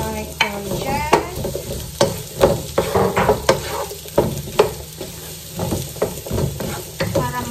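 Courgette fries in a hot pan with a constant crackling sizzle, broken by repeated sharp scrapes and knocks of a utensil stirring against the pan, close and loud.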